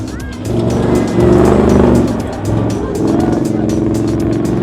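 A Lexus LX 570 off-road rally car with a 5,700cc V8 engine roars loudly nearby at a rally event, its engine surging and revving in waves, with a voice talking over it.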